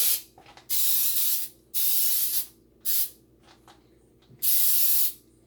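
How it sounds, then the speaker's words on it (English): Four separate bursts of cooking spray hiss up close onto a cake pan, each about a second long, with short quiet gaps between them. "So we're gonna go ahead and spray this good here."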